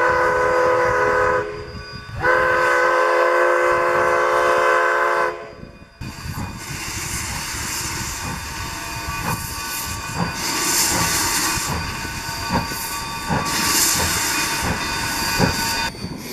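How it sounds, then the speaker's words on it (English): A narrow gauge steam train on the Cumbres & Toltec Railroad chugs and hisses, with a loud horn-like whistle early on, then rhythmic rail clatter and steam bursts as it rolls along nearby. "the longest and highest narrow gauge steam train ride currently operating in the United States"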